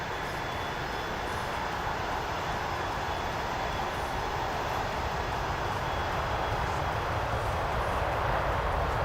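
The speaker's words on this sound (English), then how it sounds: "as you can hear, the engines are very quiet." Airbus A330-300 cabin in flight during the climb to cruise, a steady low engine drone and airflow rush that holds evenly throughout with no voices.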